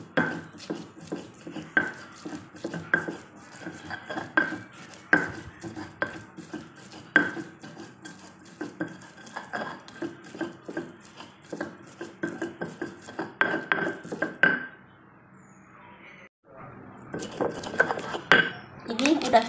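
Spice paste pounded by hand with a mortar and pestle, a steady run of close, loud knocks and grinding scrapes that pauses briefly near the end before resuming.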